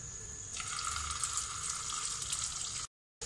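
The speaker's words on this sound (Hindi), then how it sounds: "तेल मेरा गरम हो गया है, अब मैं मंचूरियन बॉल को फ्राई कर लूँगी।" Vegetable manchurian balls deep frying in hot oil over a high flame, a steady close bubbling hiss that grows fuller after the first moment, then cuts off abruptly near the end, with no talking.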